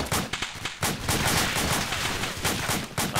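Dense, continuous machine gun fire in a video game rattles at close range, with rapid shots running together and short gaps at the start.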